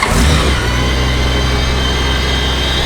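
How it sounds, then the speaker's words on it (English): A 2007 Honda Goldwing touring motorcycle engine fires up with a loud burst, then settles into a steady, deep rumbling idle close by. "Bike comes right to life."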